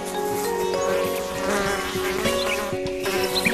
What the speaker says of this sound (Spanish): Es la danza de las abejas.